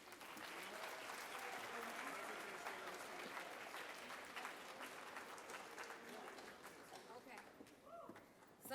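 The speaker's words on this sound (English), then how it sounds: "Give them a round of applause" An audience at a Hispanic Heritage program applauds Griner Middle School performers, sustained crowd clapping that stays steady for most of the stretch and thins slightly toward the end.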